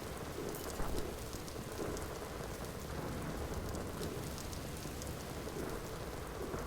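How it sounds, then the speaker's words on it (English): A video game's rain effect pours down as a steady, dense, even hiss of rainfall from start to finish, with no talking. "I can't just enjoy the effect of the rain"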